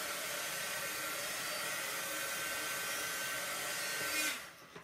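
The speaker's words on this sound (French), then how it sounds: "Et je vais passer avec mon heat gun, pardon. Je vais passer pour sécher entre les 2 encres." A heat gun drying layers of ink, a steady loud blowing roar close up that cuts off near the end.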